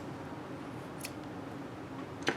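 Scissors cut plain cotton yarn for tassels, with one short, crisp snip near the middle and another near the end over a quiet background.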